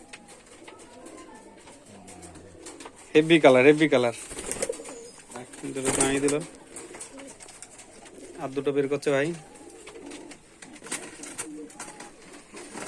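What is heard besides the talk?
foreign pigeons cooing in cages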